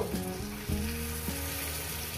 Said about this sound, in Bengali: যেহেতু কাঁচা মাছটা যেহেতু আমি ভাজা ভাজা করছি